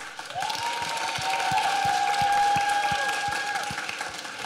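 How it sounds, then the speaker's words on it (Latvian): An awards-ceremony crowd gives loud applause for teachers, close rhythmic clapping with cheering and a sustained whoop rising over it, swelling in the middle and tapering at the end. "Skolotājiem skaļi aplausi."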